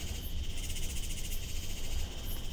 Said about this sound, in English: I'll play some tree frogs, absolutely magical tree frogs that we recorded in our front yard during a full lunar eclipse.